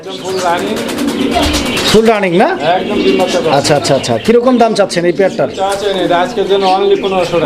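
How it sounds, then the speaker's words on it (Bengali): A pair of white Lakkha fancy pigeons coo beneath loud, close conversation as men haggle over a price, the birds' low throaty calls mostly buried under the voices. "চমৎকার দমের একজোড়া হোয়াইট লাক্ষা কবুতর"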